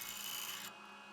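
A deburring tool scrapes the edge of a drilled hole in a knife spacer, making a steady, close rasping rub that stops abruptly partway through and leaves quiet room tone.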